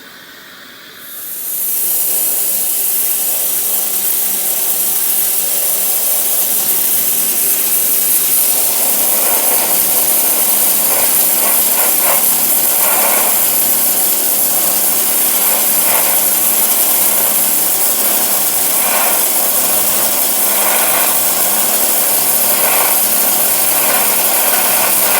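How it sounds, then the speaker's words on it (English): A sandblaster strips the front nose panel of a BMW 2002, starting after a short pause with a loud, continuous, close hiss that holds steady to the end with slight surges. "I'm gonna start sandblasting the front."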